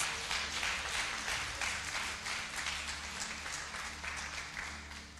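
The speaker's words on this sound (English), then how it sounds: "And give them a round of applause." A church congregation at a Sabbath service claps for the men in the room. The applause is fairly faint and sustained over a low hum, with no speech.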